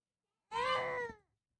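A young kitten, about one month old, gives a single drawn-out meow lasting under a second, close and fairly quiet, alone without talk.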